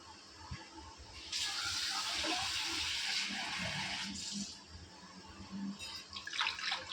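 Water gushes steadily for a few seconds, pouring into a pot of dahi kadhi, amid soft kitchen clatter before and after.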